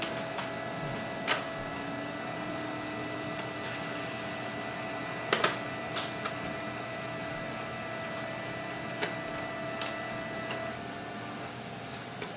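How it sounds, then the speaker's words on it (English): An HP Color LaserJet Pro MFP M283fdw printing a document gives a steady mechanical whir with a faint tonal hum, broken by occasional sharp clicks and clunks of the paper feed, close and moderately quiet. "So I'm just going to print this document."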